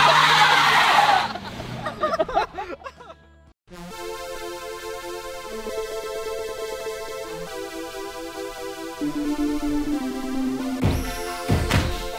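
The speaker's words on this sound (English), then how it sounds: "do a brake stand right now." Car held in a brake stand at an outdoor motorsport jam: loud tyre screech and skidding with a revving engine, dropping briefly to near silence before a sustained high squeal resumes and rises toward the end.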